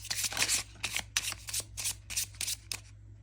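Lenormand cards being shuffled by hand, a rapid run of crisp riffling bursts and soft slaps repeating in an uneven rhythm, close and fairly quiet with no talking.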